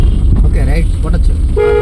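A car horn gives one short, clear toot near the end while driving in rain, following close talk in the cabin.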